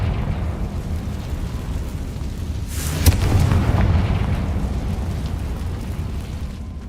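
A Confringo blasting spell goes off in Hogwarts Legacy as one loud explosive burst, rising out of a steady rumbling ambience and then fading over a few seconds.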